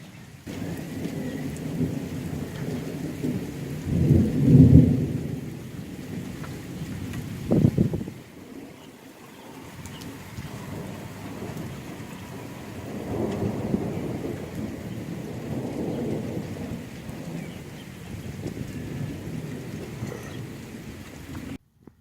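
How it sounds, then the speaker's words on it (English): A severe thunderstorm in Hutchinson, Kansas, under a tornado warning: a steady wash of heavy rain with deep thunder rumbling loudly, then a brief lull before more rolling thunder builds again, with no voices. "we have a really severe thunderstorm coming towards Hutchinson right now. It's already raining and lightning outside"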